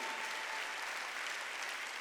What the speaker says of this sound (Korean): 빨리 박수 치라고 빨리.